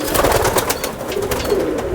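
Pigeons coo close by in repeated throaty pulses, several soft rolling calls overlapping in a steady rhythm with no talk.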